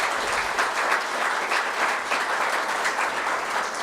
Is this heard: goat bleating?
no